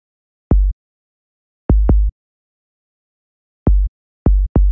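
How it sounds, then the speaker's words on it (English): Short BWB pack 808 bass hits from a hip-hop beat: five brief, deep booming thumps in a syncopated pattern, some in quick pairs, each cut off sharply with silence between. "The first 808 is really short."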